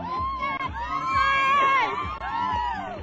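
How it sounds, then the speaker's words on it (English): Cheerleaders of a cheer squad shouting and whooping together at a Thanksgiving parade, a loud bright crowd of young voices rising and falling in rhythmic bursts over steady outdoor din. "Give me a cheer, girls."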